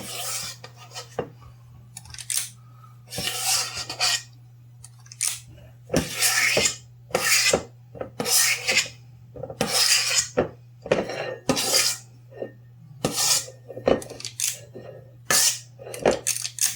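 A scoop scrapes and rasps against a pan as cream puff batter is scooped into it, working the corners first, then the middle. Repeated short scraping strokes come in irregular bursts over a low steady hum, with no talking.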